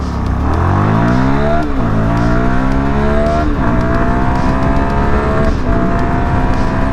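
A CFMOTO 300SS sport motorcycle accelerates hard through a 0 to 60 test, its engine revving up loud and close with rising pitch, dropping briefly at each of two gear shifts before climbing again, steady wind noise underneath.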